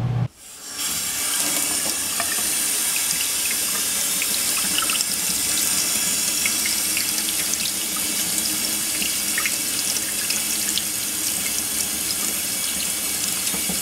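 Tap water runs in a steady, loud, unbroken stream, rinsing green powder off a guitar amp part, with a faint splash texture and no talking.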